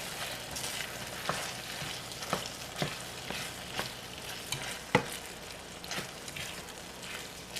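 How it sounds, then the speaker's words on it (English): Cooked elbow macaroni gets stirred into a simmering budget hot dog stew, with a soft constant bubbling sizzle and repeated muffled spoon scrapes and taps against the pot, fairly quiet and without talk. "And now I'm going to add my cooked elbows in. Slowly add them in."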